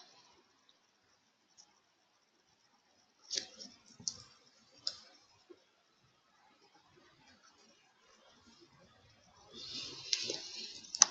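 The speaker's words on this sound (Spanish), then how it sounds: "Entonces damos doble clic a la actividad" Computer mouse clicks come as a few sharp, scattered taps in a quiet room, followed by a brief burst of denser clicking and rustle at the end.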